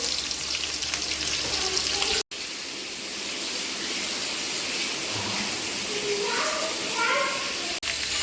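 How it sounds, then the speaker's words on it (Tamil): Mustard seeds and chopped onions sizzling in hot oil while cooking a large Kalingan Mural fish dish, a continuous loud frying hiss with crackles, briefly cut twice, under occasional talk. "கடுகு போட்டுக்கிறோம், வெங்காயம் போட்டுக்கிறோம்"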